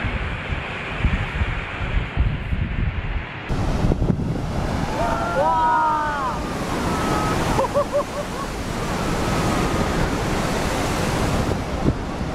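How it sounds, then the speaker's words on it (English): Huge Pacific Ocean swells crash during a cyclone, a loud continuous roar of surf with heavy wind buffeting the microphone throughout. "Gigantic swells crash"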